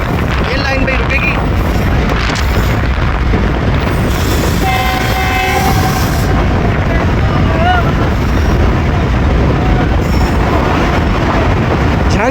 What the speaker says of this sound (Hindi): झंग सिटी रेलवे स्टेशन पे अप्रोच बना रही है 140 डाउन संदल एक्सप्रेस